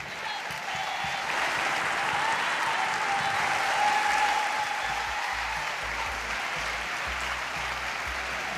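A rugby stadium crowd, almost entirely French fans, at a France v England Women's Six Nations match applauds and cheers loudly and continuously, a dense wash of clapping that swells briefly and then holds steady.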